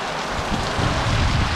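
Steady cold rain from Hurricane Ian falling, a dense, even hiss of drops with low rumbling gusts swelling toward the end; no voices.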